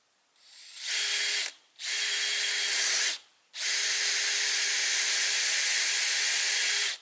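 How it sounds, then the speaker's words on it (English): A power drill whines at high speed in three bursts, two short runs then a long sustained one, close and loud with no talking. "I'm going to drill a hole probably right here."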